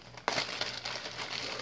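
A plastic bag crinkles and crackles close up as reptile supplies are unpacked, starting with a sharp rustle and continuing in quieter, uneven crumpling.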